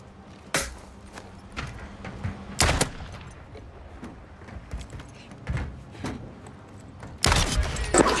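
Pistol shots fire in an online shooter video game, a handful of sharp cracks spaced irregularly over low background rumble, with a denser burst of shots at the end.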